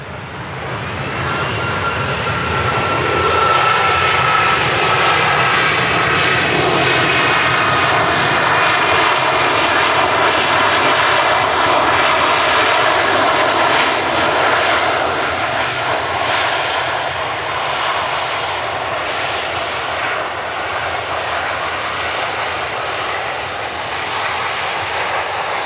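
An Icelandair Boeing 757 lands at Manchester Airport with a loud, sustained roar of jet engines, heard close and steady for nearly half a minute before easing slightly toward the end.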